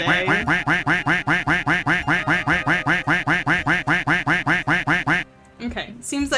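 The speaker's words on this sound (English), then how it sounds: "thank you for the quacks" A rapid, regular run of about twenty loud duck quacks plays as a livestream alert, then cuts off into a short burst of other sound.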